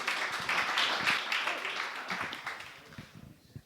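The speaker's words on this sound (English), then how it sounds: "A round of applause for Sarah and Case Study Ninja." Applause for a startup pitch at a live event, a burst of clapping that swells early and then thins out and fades toward the end.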